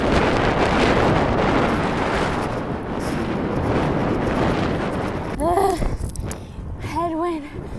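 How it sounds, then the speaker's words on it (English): Headwind buffets the microphone in a steady, loud roar on a swampy rainforest outing, with a few faint tonal chirps near the end. "Headwind."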